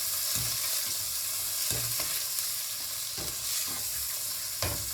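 Chicken masala khichdi being stirred with salt in a pan, a steady sizzle underneath with repeated scraping strokes of the spoon at an irregular rhythm, close and moderately quiet, no talking.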